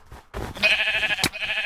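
A Minecraft sheep gives one drawn-out, quavering bleat, close and prominent, with a brief click partway through and no voices.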